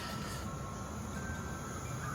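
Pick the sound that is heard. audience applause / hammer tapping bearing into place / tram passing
tram passing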